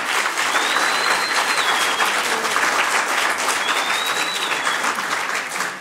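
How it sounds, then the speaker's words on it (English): Round of applause in a city council chamber, a full, steady crowd clapping loudly throughout, with a couple of faint whistles rising above it. "Give yourselves a round of applause."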